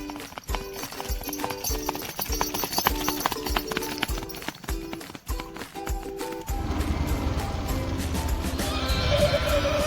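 Horses move about outdoors, their hooves clip-clopping in a quick, regular rhythm close by, broken by loud whinnies, before a steadier rushing noise takes over toward the end.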